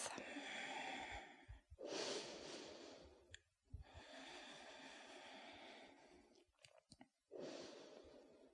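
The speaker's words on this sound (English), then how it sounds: "We'll take 10 breaths here. Breathing in through the nose," Slow, deep yoga breaths drawn through the nose, heard as three long, close airy inhale-exhale swells separated by brief pauses, with no talking.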